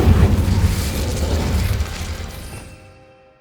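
Incendio fire spell cast in Hogwarts Legacy, a single loud fiery whoosh and rumble that fades out over a few seconds.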